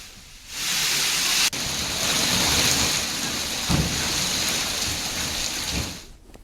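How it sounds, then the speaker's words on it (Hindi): Heavy rain pours steadily in Chamoli, Uttarakhand, a loud, dense hiss of water that fills the whole stretch with no voices, starting and stopping abruptly. "चमोली में देर रात से बारिश लगातार जारी है।"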